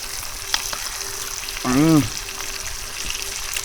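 Freshwater murrel fish caught from the river sizzles as it fries outdoors on the riverbank, a constant close hiss with a short voice cutting in partway through.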